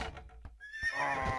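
A horse whinnies loudly in a long, wavering neigh in the Age of Empires Rise of Rome strategy game, after a few brief thuds of hooves, with no voices over it.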